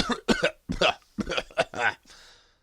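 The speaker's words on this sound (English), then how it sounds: "Christian began to cough." A person nearby coughs repeatedly in several short, harsh bursts, with brief pauses and a throaty, voiced quality.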